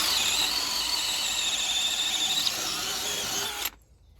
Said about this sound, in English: You can now see holes being drilled.